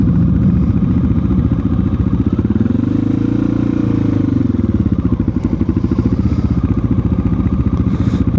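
Motorcycles rumble past on a road with a steady low, throbbing engine drone, loud and close, swelling and fading as the bikes go by.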